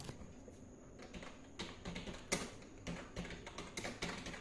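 Computer keyboard typing while building a Visual Basic 6.0 form: irregular bursts of soft key clicks close by, with brief pauses between keystrokes and no talking.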